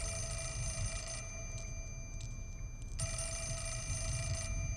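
Two bursts of electronic ringing from a telephone in the horror game Fatal Frame IV: Mask of the Lunar Eclipse, separated by a short gap and sitting over a low ambient hum, clear and fairly loud.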